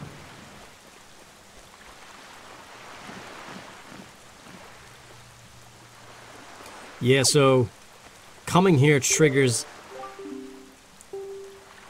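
Endless rain falls on the cursed island in Zelda: Wind Waker HD, a steady soft hiss of rainfall running throughout at moderate level, with someone talking over it and short bursts of in-game character voice sounds.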